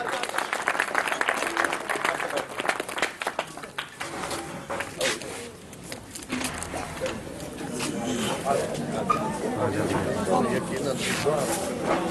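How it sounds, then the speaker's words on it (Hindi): An audience applauds steadily at a turban-tying honour ceremony during a poetry gathering in Muzaffargarh, with loud, dense clapping filling the room and voices talking over it. "आपकी जोरदार तालियों में सईद अख्तर सईद की दस्तारबंदी।"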